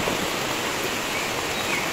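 Creek water at Panaon, a swollen stream rushing in a dense, steady broadband roar, close and loud and unbroken, with no voices.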